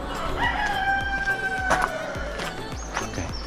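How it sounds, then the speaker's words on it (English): Roosters crow loudly close by, with a long drawn-out call in the middle, while other chickens and geese call and cackle around them in a busy outdoor farmyard. "Okay, there's a lot of chicken and goose."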